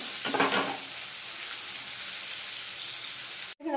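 Finely chopped onion sautés in hot oil, giving a loud, close, even sizzle after a brief stirring scrape at the start, cutting off for an instant near the end.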